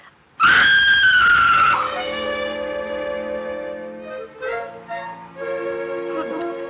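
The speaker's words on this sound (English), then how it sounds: "Somebody screamed." A woman's loud, high scream bursts out and holds for over a second in an old 1942 film scene, then a long echoing, ringing tail lingers with faint movement beneath.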